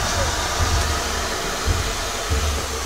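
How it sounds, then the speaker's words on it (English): On an LMS steam locomotive with combined steam and vacuum brakes, the steam brake releases with a steady, loud hiss that lasts throughout, with faint low thumps underneath. "On this engine, it's a combined steam and vacuum brake."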